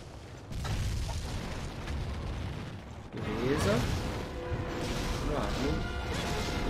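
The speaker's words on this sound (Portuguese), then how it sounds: "Vou colocar a bombinha aqui" A bomb exploding in the video game Monster Hunter 4 Ultimate during a hunt of Savage Deviljho: a sharp crashing blast followed by a second louder impact with rumbling debris, while a player talks over the game.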